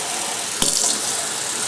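Tap water gushes from a kitchen faucet into empty tomato cans, a loud, steady splashing rush with a brief sharper splash partway through, heard up close and without speech.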